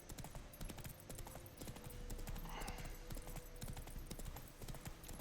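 Horse hooves clip-clop steadily in The Witcher 3, a quick continuous rhythm of close, crisp footfalls over a busy game soundscape, with no voices.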